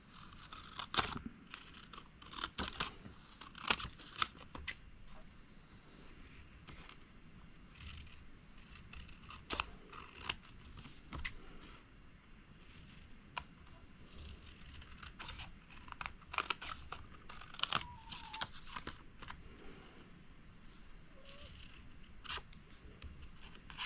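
Scissors snip repeatedly through paper, cutting out embellishments for a junk journal; quiet, close, irregular crisp cuts with light paper rustling between them, no talking.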